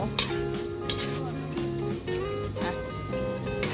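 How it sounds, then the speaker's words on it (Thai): Pork stir-frying in a pan for a spaghetti dish, with a soft continuous sizzle and a few scraping stirs sitting under steady melodic background music. "ก็เดี๋ยวผัดให้หมูสุกก่อนนะคะ"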